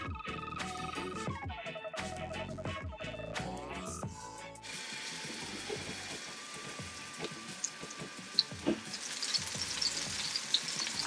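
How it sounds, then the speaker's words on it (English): Loud, steady sizzling of mahi mahi frying in olive oil in a hot pan, a continuous crackling hiss with scattered pops, no talking. "There's a great sizzle when you add it to the pan."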